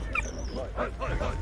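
Dog from the video game Valiant Hearts gives short whimpering yips and barks, close and moderately loud, with someone speaking over it.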